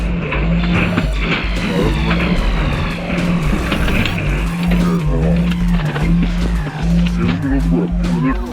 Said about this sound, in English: officers executed a pit maneuver to bring the chase to an end. The maneuver caused the SUV to crash.